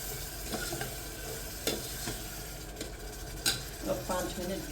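Sev sabji stirred in an electric kettle, a soft steady sizzle with scraping stirs and faint clinks of a spoon against the pot, close by.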